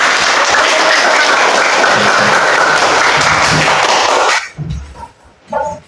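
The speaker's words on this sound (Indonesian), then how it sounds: "Tepuk tangan dulu." Students in a classroom break into a loud, dense round of applause that fills the room for about four seconds, then stops abruptly, leaving a few faint rustles and knocks.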